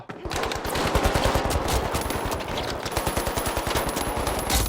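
Rapid automatic gunfire from the multiplayer shooter The Finals during a cash heist match, a dense, steady stream of loud close shots running almost without pause throughout.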